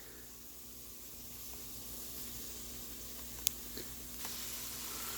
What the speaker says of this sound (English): As you hear it sizzling, I have just browned up the steaks.